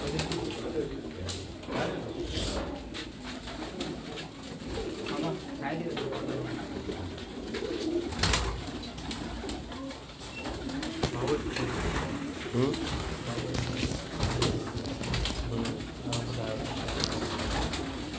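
Pigeons coo softly and repeatedly on a rooftop loft in Larkana, Sindh, amid a busy background of voices, rustling and handling noises, continuing throughout.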